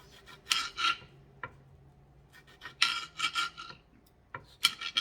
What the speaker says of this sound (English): just cut those little pieces off